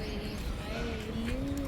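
A pigeon gives soft, drawn-out coos, a low warbling tone that slides slightly, over a steady hiss of background noise.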